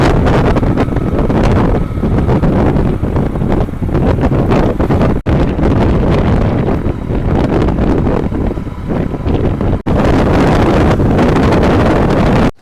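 Riding pillion on a motorbike toward a base village near a mountain, heavy wind roaring across the microphone with the engine buried beneath, loud and continuous with two brief cuts.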